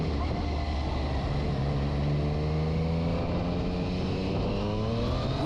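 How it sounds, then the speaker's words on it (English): An 800cc motorcycle accelerates hard past a bus on an open road, its engine note climbing steadily in pitch over several seconds, loud and close, with no talking. "It's always fun to pull this bike"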